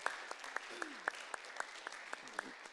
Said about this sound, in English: you guys can give him a round of applause.